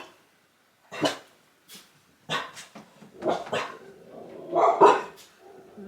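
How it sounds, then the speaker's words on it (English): Dogs bark in separate bursts, several sharp barks and some whimpering yips, fairly close and loud between silences, with workers in a garden nearby. "The gardeners are here, so you may hear the dogs"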